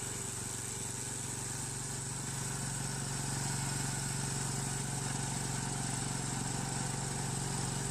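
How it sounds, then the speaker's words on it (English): Air-cooled diesel engine on an AFW150G paver with hydraulic pumps, running at a steady idle with a constant low rumble and even mechanical hum throughout, fairly loud and continuous with no voices. "It is powered by an air-cooled diesel engine with an electric start-stop function, which is integrated with hydraulic pumps for its operations."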